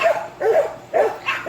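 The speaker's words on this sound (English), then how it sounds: "There are my dogs." Two dogs, the household's own pets and a neighbor's dog, bark in short repeated bursts at a moderate distance, the barks coming in two quick pairs with no talk over them.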